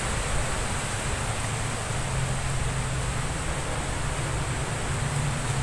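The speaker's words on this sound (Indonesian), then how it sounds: "Kayak angin iki banter banget. Suarane." Strong wind blows in a steady, loud, broadband rush with no gusting breaks, close and continuous throughout, without any talk.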